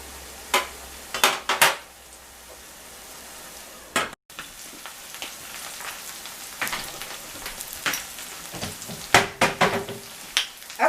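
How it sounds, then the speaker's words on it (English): Eggplant sears in a pan for jerk rasta pasta, a soft steady sizzle broken by several sharp scraping, stirring bursts close by, with no talking. "I'm going to let it sear some more"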